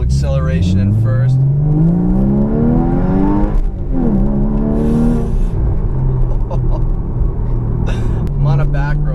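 A Porsche Cayman GTS accelerates hard in first gear, its engine note climbing steadily in pitch through the rev range, dropping at a shift and rising again, loud and close with a constant rumble throughout.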